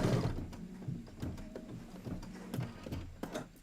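An embroidery machine stitches fabric for a seasonal quilt, giving a quiet mechanical whir broken by irregular ticks and clicks from the moving needle.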